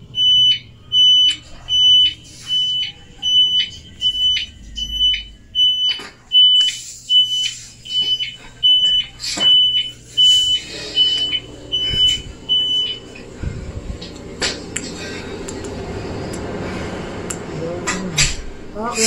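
A smoke alarm beeps in a steady, insistent rhythm of short repeated chirps for most of the stretch, then stops, while people talk over and after it.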